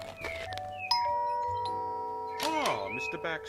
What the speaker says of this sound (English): Okay, let's go and ring the doorbell.